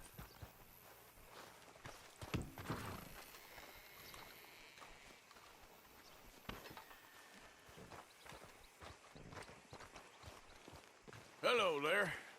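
In the Red Dead Redemption 2 video game, a horse's hooves clop in a slow walk under men's conversation, and a loud horse whinny or snort comes near the end.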